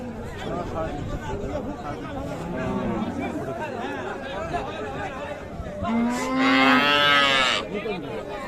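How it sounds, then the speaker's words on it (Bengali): A Friesian cow at the Raniganj cattle market gives a loud, drawn-out moo near the end, with people chatting around it throughout. "এই যে এটি গাভী নতুন জোয়ান বয়সের গাভী"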